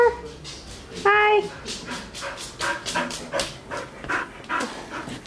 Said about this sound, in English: And a puppy dog.